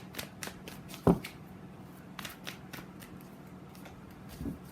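Tarot cards shuffled by hand at close range, quick riffles and soft flicks in an uneven rhythm with a sharper slap of the deck near the start, fairly quiet, with no talking.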